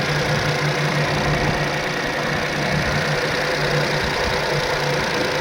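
Steady idle of a 2018 Volkswagen Polo 1-litre petrol manual engine, heard close with an even, continuous hum and light ticking, no voices.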